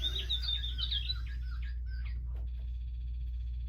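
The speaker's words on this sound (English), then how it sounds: "That sounds like a blue jay." Bird calls, likely a blue jay, sounding as a run of bright, raspy chirps in quick succession that fade out partway through, over a steady low background hum.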